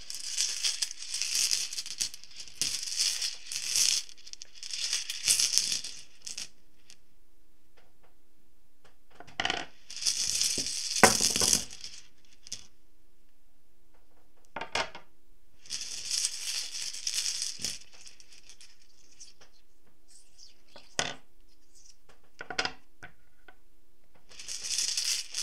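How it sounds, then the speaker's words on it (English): Runes are drawn and handled in a quiet room, giving clustered bursts of rattling, clicking and rustling with silent pauses between handfuls. "I'm also going to draw the runes."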